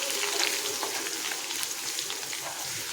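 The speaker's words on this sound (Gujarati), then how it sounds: "હવે આપણે એમાં વાટેલું લસણ છે એ આપણે નાખી દઈશું। બધું જ આપણે સરસ સાતરી લઈશું।" Crushed garlic and cumin sautéing in a hot pan for chori batata nu shaak, a steady close sizzle with light stirring scrapes and a sharp clatter at the very end.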